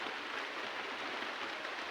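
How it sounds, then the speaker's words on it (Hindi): Heavy rain falling, a dense steady hiss of downpour with no breaks and no voices. "इतनी तेज़ बारिश हो रही है"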